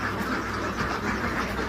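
Ducks quacking steadily on a small farm, a dense chorus of overlapping calls from several birds close by, with no talk over them.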